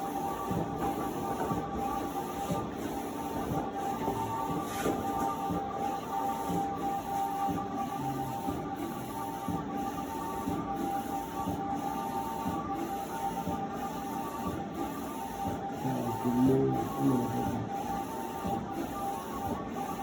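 A steady mechanical whir with rhythmic clicking repeats evenly as a DTF printer's XP600 print head shuttles back and forth, continuous and close.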